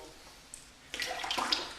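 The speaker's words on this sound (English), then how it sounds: "just apply some water to your beard with the brush" Wet shaving brush dabbing water into a beard before a shave with a Merkur Futur adjustable safety razor, a close, soft, bristly splashing and swishing that starts after a quiet moment and continues in uneven wet strokes.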